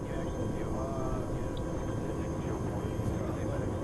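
A helicopter's steady rotor and engine drone hums continuously through a combat mission in a video game, with people talking over it.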